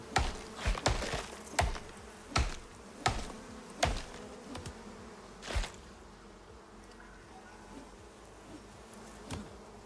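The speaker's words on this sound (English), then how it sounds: "Oh, bees. There's another bee." Buzzing bees around a beehive in the survival game Icarus, with repeated sharp hits or clicks punctuating a low insect drone.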